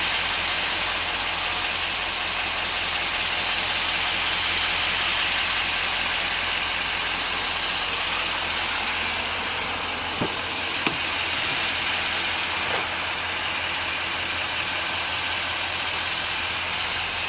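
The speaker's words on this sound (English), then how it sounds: "I left it running so you could hear." A 2013 Chevrolet Silverado 2500HD LTZ 4WD with the 6.6L Duramax V8 turbo diesel idles steadily nearby, a constant low rumble and whine that holds for the whole stretch, with a few brief clicks partway through and no talking.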